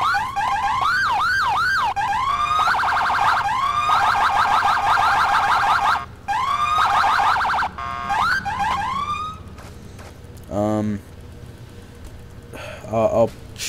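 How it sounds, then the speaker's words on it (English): A loud electronic emergency siren from a GTA IV emergency lighting mod cycles through wailing and warbling patterns, cutting off and restarting several times before a few short whoops at the end. "That's for the siren."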